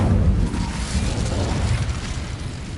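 An Incendio fire spell from Hogwarts Legacy bursts out as a loud, deep whooshing blast that starts strong and rumbles on steadily for a few seconds, with no talking.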